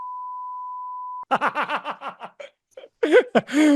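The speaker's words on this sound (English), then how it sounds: "I'll just beep it out." A steady pure beep tone holds for over a second, then gives way to bursts of laughter and chuckling, close and lively.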